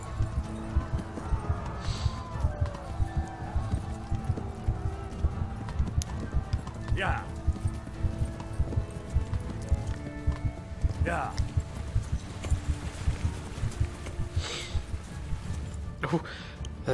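Hooves clip-clop steadily from a horse galloping in Kingdom Come Deliverance, a continuous rhythmic beat, with brief whinny-like calls and someone talking over it.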